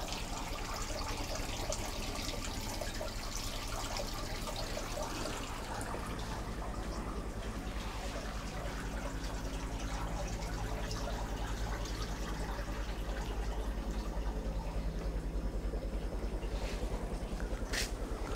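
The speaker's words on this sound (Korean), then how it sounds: "바위 틈으로 이렇게 물이 흘러내리고 있죠" Water trickles down through rock crevices on Ongseongsan mountain in Hwasun, making a soft, continuous running and splashing wash with faint drips, steady from start to finish.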